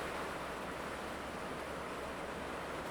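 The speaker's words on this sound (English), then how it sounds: "It's really pouring down here, guys." Heavy rain pouring down in a steady, dense hiss that stays even in loudness throughout, with no other sounds standing out.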